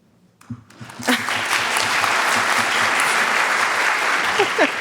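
An audience at an artist conversation event bursts into applause after a brief quiet start, building quickly into sustained, fairly dense clapping that continues to the end.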